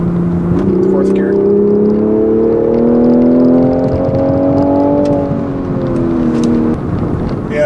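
A 2020 Toyota GR Supra engine pulls hard in fourth gear, a loud, steady rising drone that climbs in pitch for several seconds, heard from inside the car before easing slightly near the end.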